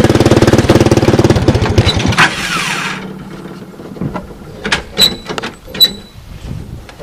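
A Honda-powered engine on a converted 1988 EZGO UTV runs with a loud, rapid putter for about two seconds, then fades, leaving scattered knocks and clatter.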